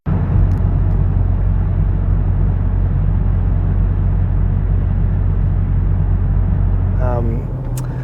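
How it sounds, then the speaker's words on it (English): A car fitted with a rebuilt Mazda MPS engine runs in a steady, loud, close rumble that holds the whole way through and only eases slightly at the very end. "here's some video clips of the car actually running with that engine in it"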